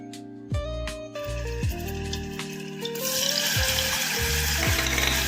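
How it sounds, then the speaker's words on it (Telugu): Tomatoes, green chilies and curry leaves frying in oil for a gongura paneer curry, a close crackling sizzle that swells louder partway through, with clinks and stirring scrapes and no talk. "ఒక 2 నిమిషాలు వేయించుకున్నాము, ఎక్కువగా వద్దు, ఒక 2 నిమిషాలు చాలు."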